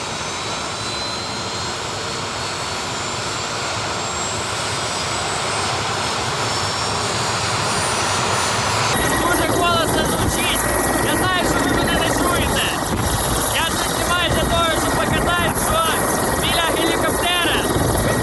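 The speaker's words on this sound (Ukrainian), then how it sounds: "І зараз будуть запускати двигун, перевіряти його на справність." A Ukrainian Army Aviation helicopter engine starting for a check at night: a loud, steady turbine roar fills the whole clip and grows harsher halfway through, with faint voices underneath.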